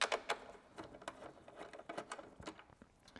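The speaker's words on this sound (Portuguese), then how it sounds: "Agora aqui perto da bateria eu vou tirar esses dois parafusos." Small metallic clicks and ratcheting taps from a wrench loosening two bolts near the battery of a Honda Hornet motorcycle during fuel tank removal, quiet and irregular at close range.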